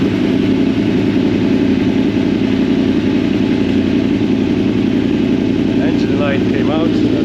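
A 2007 KTM 950 SMR motorcycle engine idles steadily and loudly close by, a dense even rumble that holds without change for several seconds.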